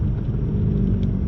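A 2020 Ford Mustang pulls uphill on a snow-covered road, its engine a continuous low, droning rumble with a faint whir, heard close and alone.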